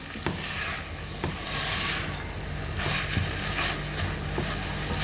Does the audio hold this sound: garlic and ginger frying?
yes